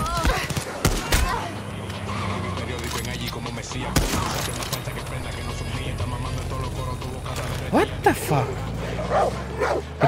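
Dogs bark and yip in Far Cry 6, with repeated sharp barks and a whimper over a busy game soundscape that includes gunfire, while someone talks throughout.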